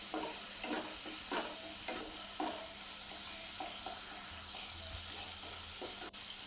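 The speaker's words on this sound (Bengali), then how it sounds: "যতক্ষণ না মশলা থেকে তেল ছাড়ে ততক্ষণ মশলাটা এইভাবে কষিয়ে যেতে হবে।" Spice paste frying in oil for ilish bhapa, with steady sizzling and hiss under a series of rhythmic spatula scrapes, close and continuous, no talking.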